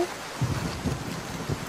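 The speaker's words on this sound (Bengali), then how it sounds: "এটা তো মেঘের গর্জনের শব্দ।" Thunder rolls through a steady downpour on a rainy day, with low deep rumbles swelling in several waves under a constant hiss of rain.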